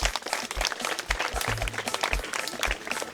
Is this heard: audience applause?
yes